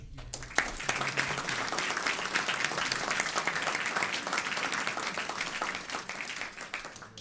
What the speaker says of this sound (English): And a big round of applause for our sponsor, Lou Barrett.